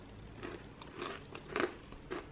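Bites into a warm white chocolate chip cookie that is crisp outside and soft inside, giving several short crunchy chewing bursts close to the mic with quiet pauses between them.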